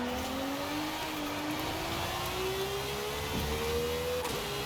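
A car engine in Forza Horizon 5 holds a steady, rising drone as it builds revs, loud and close throughout with no pauses or talk.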